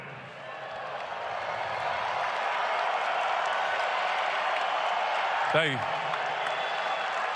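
Arena crowd at a Brooklyn opening-night basketball game cheering and applauding, a steady broad wash of noise throughout with a voice speaking briefly near the end.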